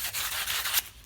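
Short, raspy strokes of sandpaper rubbing back and forth over a wooden injector port cleaning dowel, close and fairly loud.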